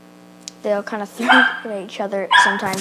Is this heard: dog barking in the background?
yes